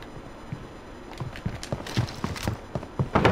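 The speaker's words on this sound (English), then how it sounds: "I'm hearing footsteps, man." Quick, irregular footsteps from a nearby enemy in the shooter Warzone, a run of sharp thuds growing louder and closer over a few seconds, with no one talking.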